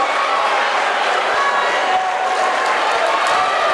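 An indoor basketball crowd cheers and applauds after a made three-pointer in a men's college conference tournament game, a loud, steady roar of clapping and voices filling the gym.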